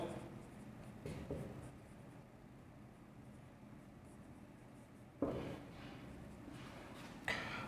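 Pen scratching steadily across paper while a handwritten answer to a Class 12 probability problem is worked out, a soft continuous scribble with a few louder taps and strokes, close and fairly quiet.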